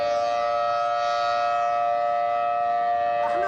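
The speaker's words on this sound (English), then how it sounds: "Air raid sirens going off many times inside Kuwait." A loud air raid siren in Kuwait wails steadily on a sustained, unwavering tone, close and continuous throughout.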